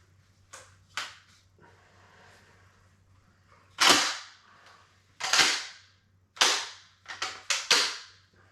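A DP-12 double-barrel pump-action shotgun fires a string of sharp, loud reports with short gaps between them, and the later shots land in a quicker cluster near the end. No one speaks.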